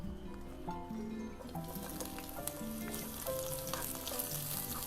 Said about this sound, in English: Listen to the sizzling sound.